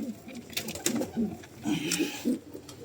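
Soft, low pigeon coos repeat in short rounded bursts inside a coop, close by and fairly quiet, with faint rustling and sharper knocks between calls.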